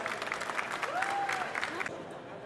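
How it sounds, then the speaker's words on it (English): Audience applause at a culinary award ceremony, a steady even spatter of many hands lasting throughout at moderate level, with a brief whistle-like tone rising through the middle. "And for round of applause, ladies and gentlemen."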